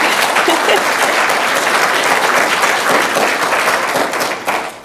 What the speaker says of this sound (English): Let's give us an applause